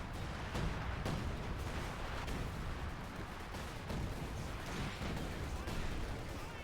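Artillery barrage in Company of Heroes 2, a dense rumbling wash of repeated booms and distant blasts rolling on steadily throughout.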